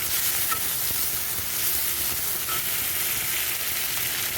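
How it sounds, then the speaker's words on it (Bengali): Sliced potatoes frying in oil with cumin and ginger paste for a bottle gourd and hilsa head dish, a steady dense sizzle and hiss that holds at an even level throughout, close and loud, with no voices. "আলুটা একটু হালকা ভাজা হোক, তারপর নুন হলুদটা দেবো।"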